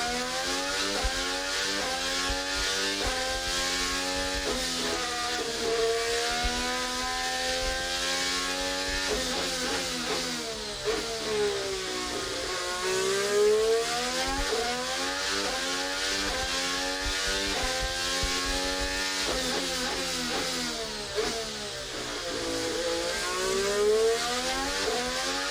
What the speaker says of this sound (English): Have you ever wondered how a Formula One engine, hybrid engine, sounds like up and close?